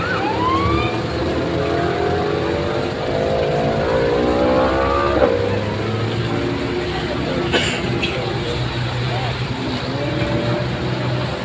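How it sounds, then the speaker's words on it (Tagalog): An ambulance siren wails through traffic, with a second ambulance nearby, its rising and falling tones sweeping steadily above a dense, continuous bed of road noise and engines while people talk throughout. "dalawa na yung ambulansya natin"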